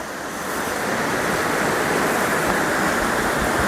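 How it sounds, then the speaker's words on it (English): Spring water at old hospital ruins rushes loudly and continuously, a close, dense roar of flowing water with no voices. "Water's flowing today."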